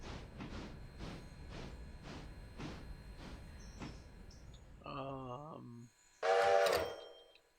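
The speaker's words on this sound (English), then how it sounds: "I think my passenger train might be coming up on Ella now" A passenger train approaching in the Railroader video game, heard as a rhythmic chuffing of regular steam puffs, then a short whistle toot and a louder, brighter whistle blast near the end, fairly quiet overall.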